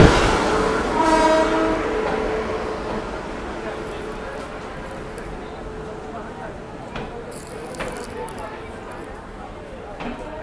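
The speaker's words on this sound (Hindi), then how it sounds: "ये हो रहा है हमारी ट्रेन की शंटिंग।" The Mangala Lakshadweep Express is shunted at an Indian railway station, with a horn blast near the start and then a continuous rumble of rail cars moving past. Station noise and scattered voices run underneath.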